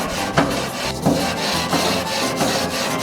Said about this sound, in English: We want to brush the grill so we can grill the burgers.